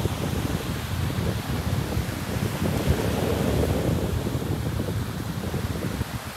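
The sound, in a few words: strong habagat monsoon wind on Boracay beach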